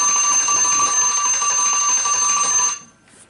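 A timer bell rings continuously in a bright, steady metallic tone for nearly three seconds before cutting off abruptly, loud and alone.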